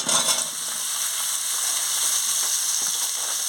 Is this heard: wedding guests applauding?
no